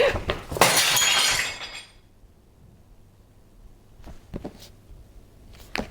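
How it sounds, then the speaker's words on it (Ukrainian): A mug smashes with a loud, bright crash and scattering shards, followed by quiet and a few faint clinks and rustles nearby. "і розбила кружку."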